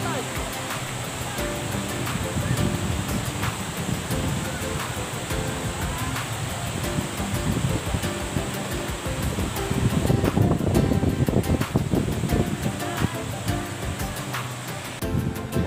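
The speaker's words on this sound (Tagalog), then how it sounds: "Napakaingay ng lagas-las ng tubig." Loud rushing water at Lola Saban in Quezon, a steady broadband roar like a waterfall or fast stream, swelling louder midway, with wind buffeting the microphone.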